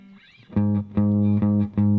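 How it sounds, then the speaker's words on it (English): A few deep bass notes sound one after another at an even pulse, each held briefly, rich and buzzy, following a soft lead-in. "I'm going to pick out the bass note"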